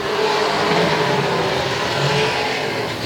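Race cars roar down the front straightaway at Sauble Speedway after a restart, several engines revving hard together in a loud, sustained wash of sound with no voices over it.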